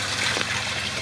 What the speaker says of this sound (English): You can see it draining now.